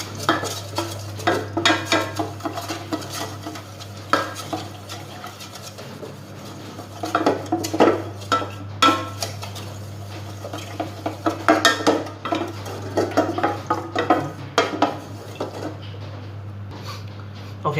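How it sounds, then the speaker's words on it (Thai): A spoon stirs tapioca starch into coconut milk in a pot, scraping and clinking against the sides in irregular strokes over a steady low hum, close and moderately loud. "จากนั้นผมก็จะคนส่วนผสมของแป้งมันนะครับ ให้เข้ากับกะทิให้หมดเลยนะอย่าให้เหลือเศษแป้งเลยนะครับ"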